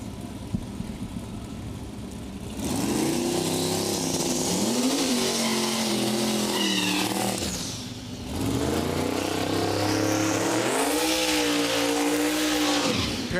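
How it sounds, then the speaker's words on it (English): Two LS turbo-powered Mustang drag cars launch and accelerate down the strip, a loud sustained engine roar with rising revs after a quieter start, briefly dipping before surging again. "Pair of Mustangs, both LS turbo powered."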